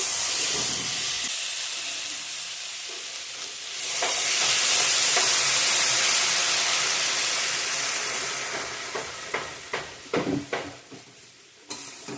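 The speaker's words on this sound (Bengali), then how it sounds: "কষানো মশলার সঙ্গে জল অ্যাড করবো এখন" Water poured onto fried spice masala in a hot pan for a Bengali paneer curry with cauliflower and potato bursts into a loud, broad steamy sizzle that slowly fades, followed by a few sharp clinks of stirring near the end.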